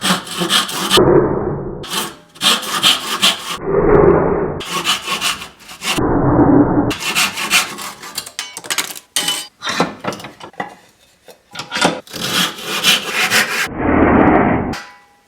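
Rhythmic rasping strokes of a handsaw cutting through pallet oak, back and forth in bursts with short pauses between, close and loud.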